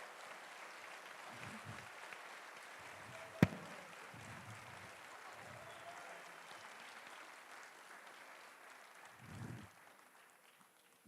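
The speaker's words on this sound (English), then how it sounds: "I would like for everyone to give a round of applause to these people of ESN Spain as well." Audience applauding at the closing ceremony of an Erasmus student meeting in Seville, a faint, distant wash of clapping in a large hall, with a single sharp knock and low rumbles now and then.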